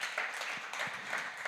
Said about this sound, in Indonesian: Mari kita berikan tepuk tangan bagi Tuhan Yesus.